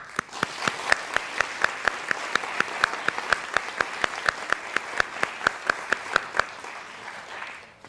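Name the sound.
applause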